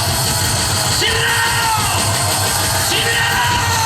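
A large crowd at a Daegu street rally against the impeachment of President Yoon Suk-yeol roars and yells together, a loud, sustained shout filling the air with rising whoops.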